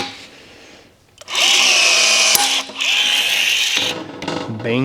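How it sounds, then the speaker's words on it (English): Milwaukee cordless rivet gun setting 3/16 by 5/8 stainless rivets on a UTV cargo box: a loud mechanical whir ramping up, a sharp snap as the mandrel breaks, then a second whirring cycle close by. "now I've got my Milwaukee rivet gun"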